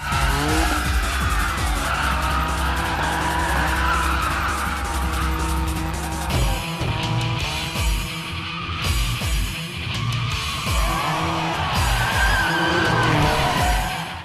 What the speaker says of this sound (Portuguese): aquela cena do carro subindo no estacionamento